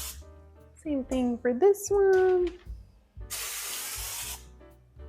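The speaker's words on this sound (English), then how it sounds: "I want to spray that with nonstick" A person speaks briefly, then a burst of nonstick cooking spray hisses onto a parchment-lined baking pan for about a second before the voice returns.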